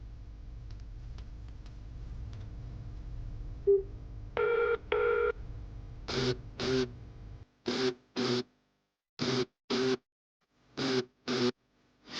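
A telephone rings in repeated paired bursts, loud and electronic, with brief silences between rings after a short stretch of low background noise.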